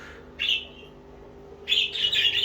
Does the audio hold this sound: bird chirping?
yes